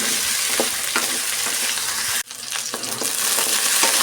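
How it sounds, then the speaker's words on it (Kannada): Okra (lady's finger) pieces fry in hot oil for a Karnataka-style sambar, a steady close crackling sizzle broken by periodic stirring scrapes, with a brief drop in the sizzle midway before it resumes at full strength. "ಚೆನ್ನಾಗಿ ನಾವು ಆಯಿಲಲ್ಲಿ ಈ ಥರ ಚೆನ್ನಾಗಿ ಹುರ್ಕೊಂಬಿಡ್ಬೇಕು"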